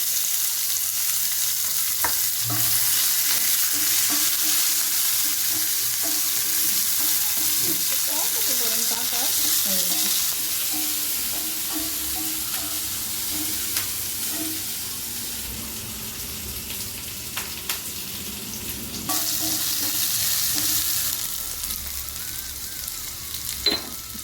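Small shallots sauté in a pan for a Karaikudi-style sundakkai paruppu pachadi, a continuous hissing sizzle broken by scraping stirs and occasional clinks of the spoon, close and fairly loud with no talking.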